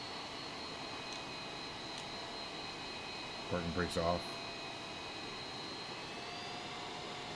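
Aircraft jet engine in a video game, a steady whining drone with a faint high tone that holds throughout, while a person talks briefly midway.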